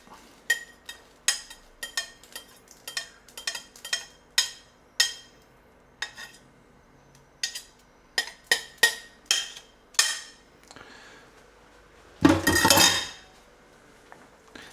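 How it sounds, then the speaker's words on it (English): Onion and garlic go into a pan that has not yet warmed up, a rapid series of close, sharp clinks and taps of utensil on pan, ending in a brief louder rattling scrape. "we'll just put the onion and garlic in the pan"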